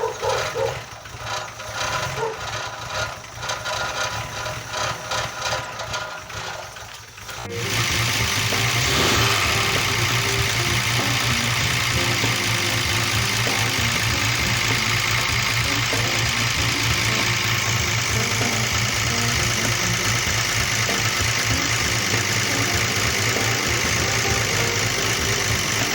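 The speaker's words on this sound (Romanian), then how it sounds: "Vibrează protecțiile de la evacuare." A BMW E21 barn find engine runs, first at a rough idle, then revved higher with a steady buzzing rattle from vibrating exhaust heat shields, loud and continuous.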